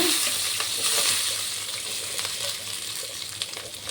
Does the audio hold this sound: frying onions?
yes